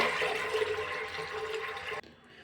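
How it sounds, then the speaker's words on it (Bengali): Water pours steadily into a pot of 300 grams of overnight-soaked chana dal for boiling, a loud close gushing splash that stops abruptly near the end. "পরিমাণ মতন জল দিয়ে দেব।"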